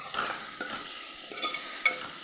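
Crushed ginger and garlic frying in a pan for a quail egg roast, a soft sizzle broken by stirring scrapes and a sharp clink near the end, close and without speech.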